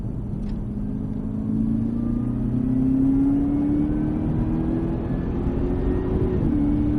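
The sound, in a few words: car accelerating as throttle is squeezed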